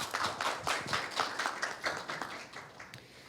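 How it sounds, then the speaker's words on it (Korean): Applause from an audience closing a panel discussion at a forum, a brief, fairly faint patter of scattered hand claps with no talking. "패널 여러분들께 큰 박수 다시 한번 부탁드리겠습니다"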